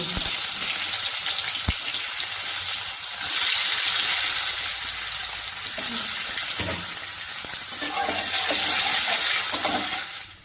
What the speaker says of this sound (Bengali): কড়াইতে তেল দিয়ে দিলাম, আলুগুলো ভেজে তুলে নিব।